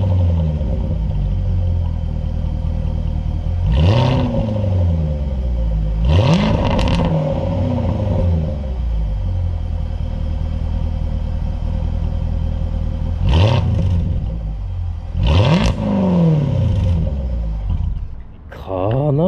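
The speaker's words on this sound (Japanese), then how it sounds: "ちょっと排気音聞いてみますか" A Jaguar F-Type SVR engine idles with a deep rumble in a parking lot, then revs sharply four times in separate bursts, each exhaust roar rising and falling back to idle, close by.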